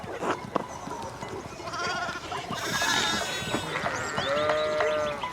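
Sheep bleat repeatedly in the video game Pentiment after a fence rail falls and they hop into a pen, several overlapping calls rising over a busy background, with a long wavering bleat near the end.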